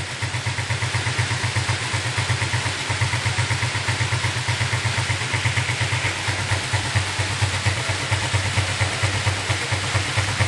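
A Suzuki Smash 115 motorcycle fitted with a new piston-type carburetor idles steadily close by, its single-cylinder engine putting out an even, rapid putter with a light mechanical clatter and no throttle changes.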